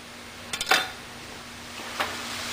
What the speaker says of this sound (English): Stir up the meat.